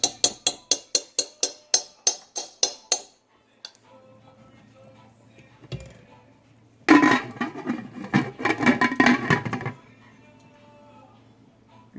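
A metal lid clatters onto a pot of melting butter on the stove, a few loud clanks after a run of rapid ticking taps and a low hum, with no talking.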